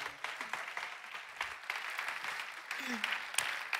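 Church audience applauding a speaker named Miri at an ICF Zürich Sunday Night service, a dense steady wash of clapping lasting the whole stretch, with a voice briefly calling out over it.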